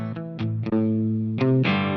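A guitar played through a Donner Arena 2000 multi-effect pedal with drive added gives sustained, gritty distorted chords, a few quick staccato hits, then a ringing held chord, loud and close.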